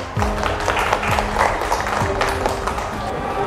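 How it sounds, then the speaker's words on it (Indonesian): A small group claps for a student group in a counseling class, a short patter of hand claps with some low voices and thuds mixed in. "Untuk kelompok 1 kita berikan tepuk tangan."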